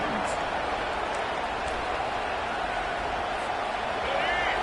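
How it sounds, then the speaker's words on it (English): A steady, dense roar of a large stadium crowd at a Michigan vs LSU American football game, continuous and loud throughout, with no breaks in the noise. "this crowd is fired up. Listen to this noise here."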